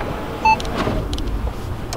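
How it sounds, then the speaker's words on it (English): A 2017 Audi A5 Cabriolet convertible roof opens and lowers, a quiet electric motor whir with a short beep and a few light mechanical clicks and clunks. "So that's the back opening up, and then the roof coming down."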